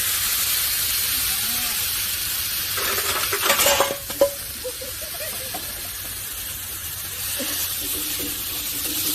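Pork pieces sizzle with a steady loud hiss as they fry dry in a pan without oil to make cracklings. A few scraping stirs and clanks against the pan rise briefly in the middle.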